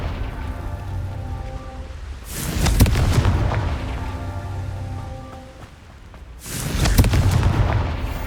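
Two heavy booming blasts from the Confringo fire spell in Hogwarts Legacy, each a loud rumbling burst with a crackling, rain-like tail that swells and fades.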